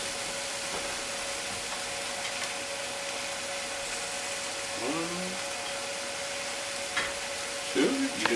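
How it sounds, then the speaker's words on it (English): Red peppers sizzle in a hot pan alongside sautéed scallops, a steady, close hiss that holds throughout, with a short stir and a brief voice breaking in near the middle and again at the end. "go in with our red peppers"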